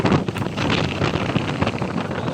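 Wind blowing outdoors in an open rural area, loud steady rushing with buffeting gusts on the microphone, no voices.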